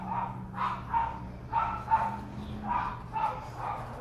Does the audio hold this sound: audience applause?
no